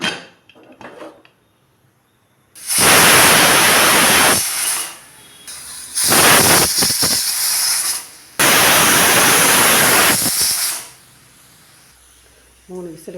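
A pressure cooker cooking pongal lets out three loud, hissing steam whistles, each lasting a couple of seconds, separated by brief quieter gaps.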